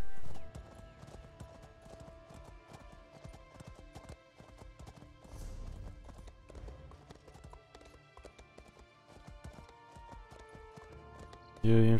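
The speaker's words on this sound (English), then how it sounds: "infinite sprint on the horse" A horse galloping in Elder Scrolls Online, with rapid, rhythmic hoofbeat clip-clops that run steadily and fairly close for the whole stretch, plus a faint neigh partway through.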